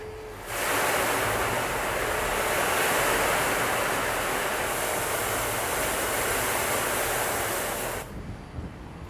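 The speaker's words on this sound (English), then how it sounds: "waterfall cascade from there" A steady, loud rush of cascading water from a waterfall in Italy, a continuous broadband roar that starts abruptly, holds for about eight seconds, then cuts off, with no talking.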